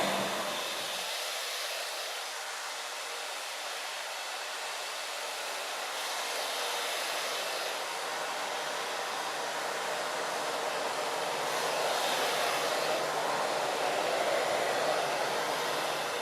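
Hair dryer blow-drying long, extremely curly, wavy hair in a salon, a continuous loud close airy roar whose pitch and strength drift slightly as it moves, with no talking.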